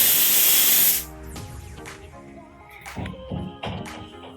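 A pressure cooker whistle lets out steam as a loud, bright hiss for about a second, then cuts off, leaving soft kitchen clatter and light knocks.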